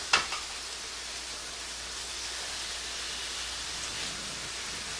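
Taco meat searing in a pan after being turned over, a faint even sizzling hiss following a brief clack at the start, with no voices.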